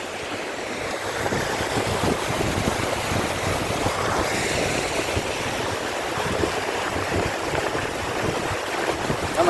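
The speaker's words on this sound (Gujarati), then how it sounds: "ધમ ધોકાર પાણી જાય છે અહીંયાથી" Heavy floodwater rushes across a closed road between Chandravada and Raval during storm rains near the sea, a loud, steady broadband roar with constant churning and no pauses.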